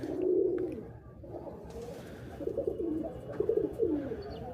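Pigeons coo in low, rolling, repeated calls close by, with a louder burst at the start and a cluster of fluttery coos toward the end.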